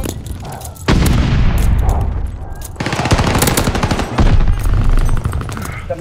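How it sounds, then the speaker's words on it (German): A grenade blast and rapid automatic gunfire erupt in Call of Duty: Vanguard on the Champion Hill map, with loud bursts of shots and heavy booms filling the whole stretch without letting up. "Granate!"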